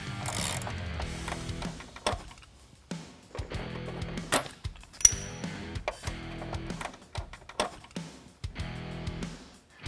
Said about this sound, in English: with that little bit of heat, it'll help break that Loctite from the factory, and you can unscrew these